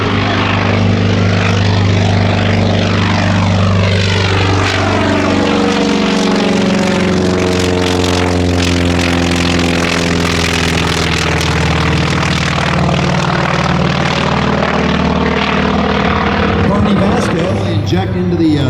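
A Grumman F4F Wildcat warbird flies low through an aerobatic routine at an airshow, its piston engine droning loudly and continuously with sweeping pitch shifts as it passes, while a voice talks over it.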